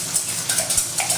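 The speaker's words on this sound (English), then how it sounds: "grab your whisk, just whisk those up right quick" A whisk beats eggs in a bowl with rapid, rhythmic metallic clinks and scraping strokes, close and fairly loud, with no talking.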